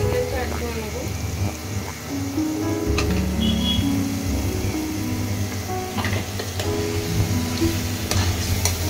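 Washed chicken pieces hiss and sizzle in a hot pan for Bengali chicken kosha, a steady, loud frying crackle with occasional stirring clatter and a voice speaking over it.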